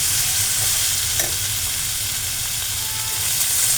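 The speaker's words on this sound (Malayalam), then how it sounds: "ഇനി ആ പനീർ നമുക്കൊന്ന് ഇളക്കാം." Paneer fries in a pan under a loud, continuous sizzle, with faint stirring scrapes rising briefly above the hiss.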